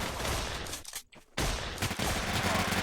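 Gunfire in a video game shooter comes as a dense, loud burst of rapid shots, breaks off in a brief gap, then resumes with heavy sustained firing.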